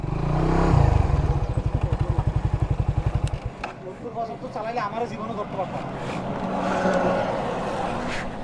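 A motorcycle ridden on the road between Satkhira and Bagerhat at seventy to seventy-five, its engine loud and throbbing for about three seconds before voices talk over the steady road and wind noise.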